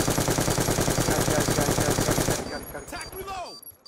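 Rainbow Six Siege match: a rapid sustained burst of automatic gunfire rattles loudly for over two seconds, then cuts off, leaving scattered shell clinks and fading game sounds.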